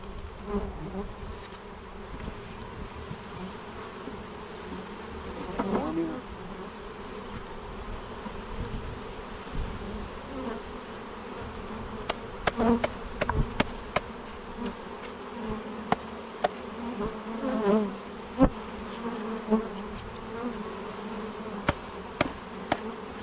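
Honeybees buzz during a hive transfer, a close, continuous drone lasting over twenty seconds, with scattered knocks and taps from handling the hive equipment toward the end.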